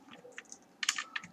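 Keys on a computer keyboard tap in a short, quiet burst of a few clicks, close by, while JavaScript code is being entered, with no talk.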